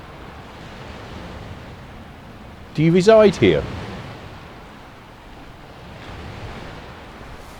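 Steady wash of sea surf on the shore near Reculver Towers and Roman Fort, a constant broad rush with a little wind, with a brief spoken question partway through.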